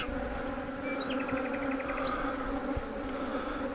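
Honeybees hum in a steady, close drone from an open hive during an inspection, with a few faint bird chirps above the buzz.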